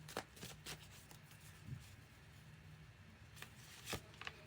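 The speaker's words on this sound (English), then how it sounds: "let's shuffle these cards good" Tarot cards shuffled by hand in a few scattered crisp riffling bursts, fairly faint over a quiet room hum, with pauses between.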